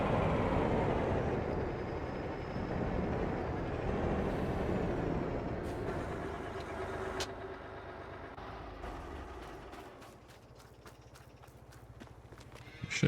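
A truck in a farming video game idles with a low engine rumble, then gives a sharp hiss of its air brake. Softer mechanical knocks and a rattling tail follow as the engine noise fades lower.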